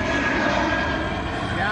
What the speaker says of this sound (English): we get a plane flying by every hour or so